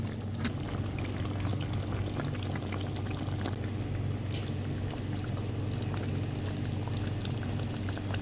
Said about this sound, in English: your chicken is nicely bubbling away and the sauce is almost there